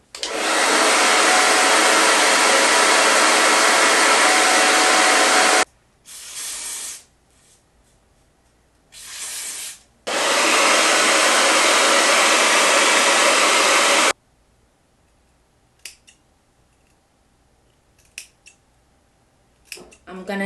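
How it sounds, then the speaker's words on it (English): A blow dryer on its cool setting drying a silky straight lace front wig, a loud steady whoosh in long bursts switched on and off, with short blasts and quiet gaps between. "I'm using my blow dryer on cool air to dry this down."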